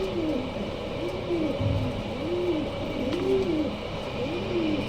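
A pair of young adult ash red bar Lahori pigeons coo close by, their soft rolling calls repeating in a steady series over a low background hum.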